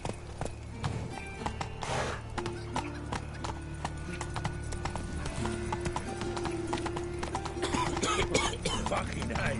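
Geralt's horse Roach from The Witcher 3 galloping, with steady rapid hoofbeat clip-clops running throughout at moderate volume, plus a brief whinny-like burst near the start.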